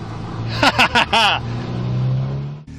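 A car pulls away hard from a standstill on a sprint track, its engine revving up through quick gear changes and then holding a steady drone, loud and close before cutting off abruptly.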